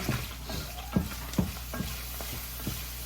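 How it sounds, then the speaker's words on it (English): Ground beef browning in a pan for a ricotta-layered dish, with irregular scraping and stirring knocks over a steady low sizzle, heard up close with no talking. "finish browning off the beef"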